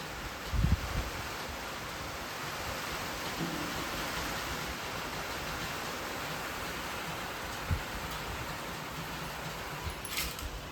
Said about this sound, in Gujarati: અને એક બાજુ વરસાદ ગાઈસ ફૂલ ચાલુ થઈ ગયો છે.